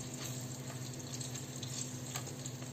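Salmon pan-frying in a pan, a faint, even crackling sizzle holding steady throughout with no talk.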